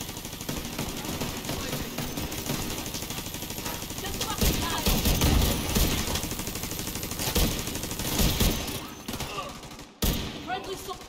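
A deployed turret fires in The Division 2, sustained automatic bursts mixed with other gunfire through a loud, busy firefight, with a brief cut near the end; voices talk over the action.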